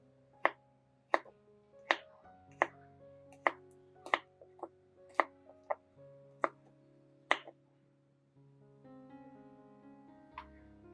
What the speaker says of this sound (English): chop the garlic cloves finely